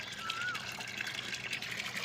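Water runs from a hose into a bucket, a steady close rushing and splashing that continues without pause.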